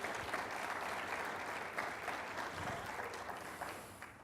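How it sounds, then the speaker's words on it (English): Steady applause from an audience at a grant announcement event, sustained and fairly distant, tapering off slightly toward the end with no talking over it. "A round of applause for you, please."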